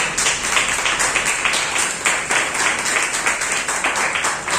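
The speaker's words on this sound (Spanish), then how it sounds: "Aplauda al Señor." A church congregation claps together in a steady, rhythmic beat during a Spanish-language sermon. The clapping is loud, close and continuous throughout.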